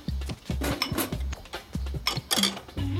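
Dishes and cutlery clink and clatter as a dishwasher is loaded at home, a run of close, sharp knocks of plates and pots with short pauses between, no talking.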